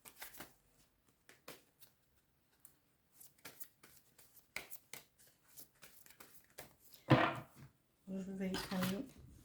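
Tarot cards shuffled by hand for a full-moon reading: quick, scattered riffles and flicks at close range, then a louder burst of card noise, with a voice speaking French toward the end.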